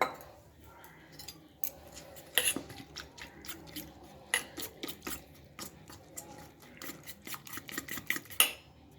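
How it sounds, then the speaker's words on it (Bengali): Utensil clinking and scraping against a bowl while banana rice-flour batter is mixed with water, a rapid irregular run of close metallic taps and clatters with no talking. "ব্যাটারটা কিন্তু আমি খুব ভালোভাবে দেখো মিশিয়ে নিয়েছি"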